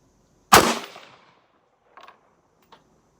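A single loud, close rifle shot from a Bushmaster Varminter fired off a bipod, with a sharp crack that decays quickly, followed by faint mechanical clicks.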